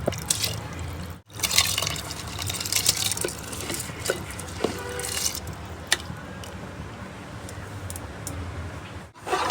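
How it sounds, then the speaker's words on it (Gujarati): Soaked khichdi, a rice and lentil mix, goes into the liquid in a cooking pot for Girnari khichdi, giving a wet, steady patter of drips and squishy splashes at moderate, close loudness. "ઉપરથી હવે નાખશું આપણે આ જે પલાળેલી હતી ખીચડી એ આપણે એડ કરશું"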